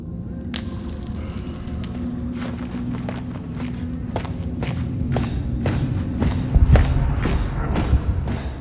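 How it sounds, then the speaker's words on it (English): Heavy, dull footsteps of an armored player from a Minecraft music disc track, a steady plodding tread with thumps over a low rumbling background that grows slightly louder toward the end. "the heavy steps of a player in armor are heard"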